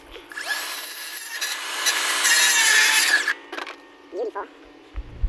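A power saw cuts through a piece of framing lumber at a house addition, a loud, steady buzzing run of about three seconds that winds down, followed by brief knocks and handling noises.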